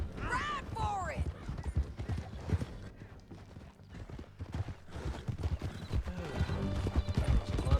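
Several horses gallop hard in Red Dead Redemption 2, a dense run of hoofbeats with a whinny near the start and shouting voices over the rumble.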